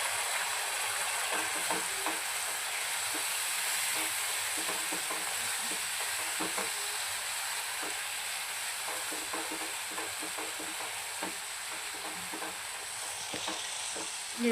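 Masala paste of poppy seed, coconut, cashew and almond sautéing in oil for mutton curry, giving a steady close sizzle and frying hiss with faint stirring scrapes, continuous and unvaried, without speech.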